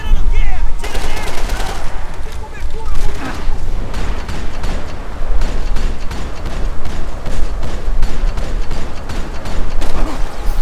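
Loud, dense gunfire from the video game Max Payne 3, with rapid bursts and booming shots packed throughout under a voice talking over the action.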